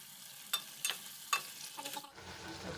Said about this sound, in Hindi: अब इसको थोड़ा हम हिलाएंगे ये चम्मच से।